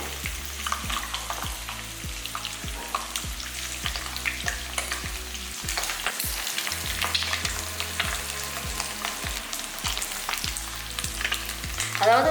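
Paneer pieces fry in hot oil in a pan for an egg paneer masala gravy, a constant close sizzle broken by repeated stirring clacks and scrapes of a utensil against the pan, with no one talking.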